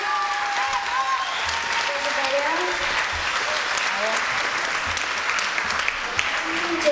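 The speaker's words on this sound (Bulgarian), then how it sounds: "така че бурни аплодисменти за Елис!" Audience applause fills a children's concert hall, steady clapping from a crowd with a few whistles and cheers, loud and continuous throughout.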